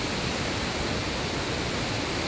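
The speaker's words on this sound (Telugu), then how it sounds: "జీవనది మాదిరి ఎప్పుడు కావేరీ నది ప్రవహిస్తూనే ఉంటుంది" The Kaveri river flowing through forest in Karnataka and Tamil Nadu, a steady, dense, broadband rush of moving water with no breaks, filling the whole scene at even loudness.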